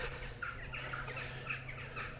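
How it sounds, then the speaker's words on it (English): Several birds squawk repeatedly from a wood on the Cotswold Way in late January, a chorus of rough, overlapping calls at moderate distance over a steady low outdoor hum. "I think there's some nesting birds in there actually"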